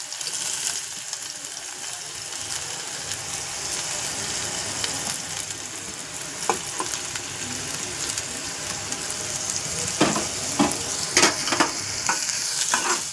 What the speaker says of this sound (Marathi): कांदा भाजून घेऊया चांगल्यापैकी.